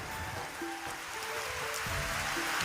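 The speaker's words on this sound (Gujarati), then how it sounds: "વરસાદ ફૂલ આવે છે" Steady broadband hiss of heavy rain falling on farm fields nearby, continuous throughout with no voices, a dense wash of drops on surfaces.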